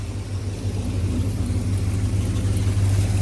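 A Little Red Express 360 engine idles at roughly 750–900 RPM with about 20 degrees of advance, a steady, close low rumble with a slight rhythmic lope that holds even throughout.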